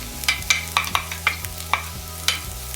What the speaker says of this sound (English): Then add the mushrooms and saute until tender.